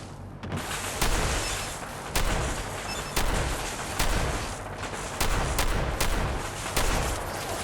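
Repeated gunshots ring out in a Fallout 4 firefight, heavy sharp cracks and booms arriving roughly once a second over a steady noisy battle din, loud and close throughout.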